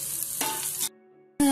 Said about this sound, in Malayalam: നന്നായിട്ട് വഴറ്റി എടുക്കണം.